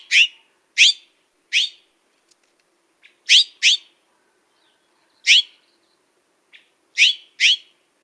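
Series of sharp, rising harsh calls from a bird, spaced irregularly with silent pauses between them, clear and fairly close.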